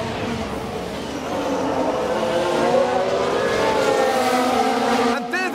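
Alfa Romeo race car in F1 Manager 2022, engine note droning steadily at mid distance for several seconds with rising harmonic whine, blended with other cars and crowd-like broadcast noise.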